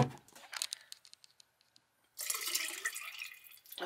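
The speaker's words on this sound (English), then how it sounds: "About to put the bacon down the toilet." Bacon grease poured down a boat's marine toilet: scattered faint drips and ticks, then a sudden steady rush of liquid lasting a couple of seconds, ending with a soft click.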